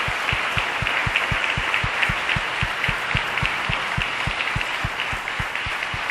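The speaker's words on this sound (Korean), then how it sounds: "이들에게도 감사의 박수를 드리겠습니다." A congregation at a church convention in Planeta Rica, Colombia, claps in thanks, a steady wash of applause under a regular low thumping beat, at even loudness throughout.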